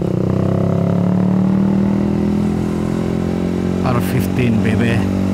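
Yamaha R15 motorcycle engine running steadily with a strong low hum, louder in the foreground, with a brief revving rise near the end and someone talking over it.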